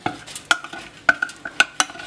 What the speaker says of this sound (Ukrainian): І ретельно розмішуємо.